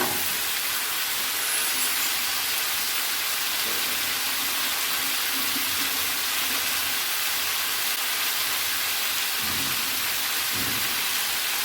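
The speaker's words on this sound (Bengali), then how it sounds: "এগুলো একটু ভেজে দিচ্ছি" Radish and shredded cabbage leaves fry in a pan for a Bengali winter mixed-vegetable dish, giving a steady, loud, dense sizzling hiss throughout, with a few soft knocks near the end and no voices.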